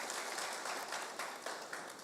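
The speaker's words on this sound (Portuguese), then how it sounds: "salve palmas para os adolescentes" Church congregation applauding the teenagers during a sermon, a dense continuous round of clapping with a few louder accents, heard alone.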